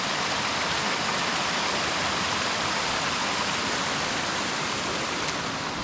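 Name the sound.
water flowing over a beaver dam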